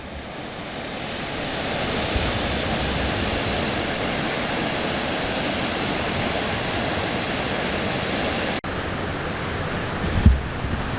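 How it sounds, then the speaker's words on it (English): Small waterfall at Noccalula Falls, a steady broadband rush of falling water that holds constant and fairly loud throughout, briefly cut near the end with a slight change in tone and a faint low knock. "it's a pretty neat little waterfalls"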